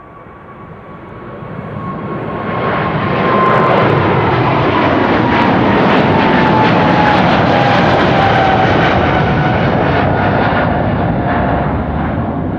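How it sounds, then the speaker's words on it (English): A recently built Boeing 777 airliner roars past at Amsterdam Schiphol Airport, its engine noise swelling to a loud, steady broadband rush with a faint whine, sustained throughout without voices. "There it is. Relatively new 777."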